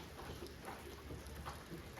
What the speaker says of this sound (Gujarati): વરસાદ શરૂ છે